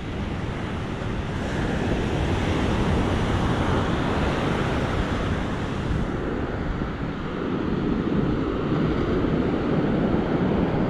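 Ocean waves wash steadily against a rocky shore near sea caves, a loud, continuous roar of surf mixed with wind buffeting the microphone, with no one speaking.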